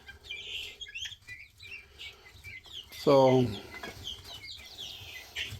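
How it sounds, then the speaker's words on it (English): A brood of guinea fowl keets and bantam chicks gives soft chirps throughout, then one loud, sharp burst of calls rings out close by; a voice speaks briefly. "There's 7 guineas and 5 bantam chicks."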